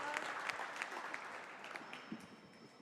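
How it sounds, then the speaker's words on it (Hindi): An audience at a Hindi poetry gathering (kavi sammelan) claps, a fairly faint, distant patter of scattered hand claps that gradually thins out. "तालियां बजाई भाई,"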